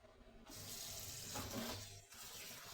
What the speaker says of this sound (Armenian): իսկ հիմա պետք է մաքրած բանջարը լավ լվանամ հոսող ջրի տակ, մի քանի անգամ